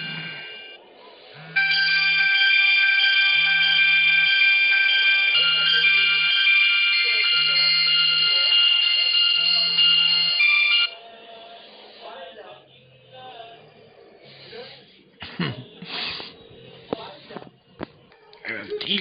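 A loud electronic phone ringtone repeats in a steady melodic pattern for about ten seconds, then stops and quiet talking and shuffling follow.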